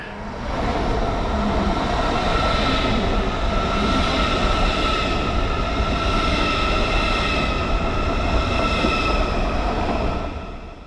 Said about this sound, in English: We're in first class today on Deutsche Bahn, on the Intercity Express